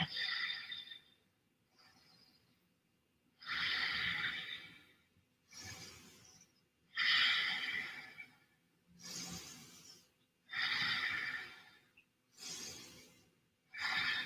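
Slow, steady breathing of a person holding a yoga backbend variation with head and legs lifted, about five long inhale-exhale cycles, each breath a soft airy rush close to the mic, alternating with quiet pauses.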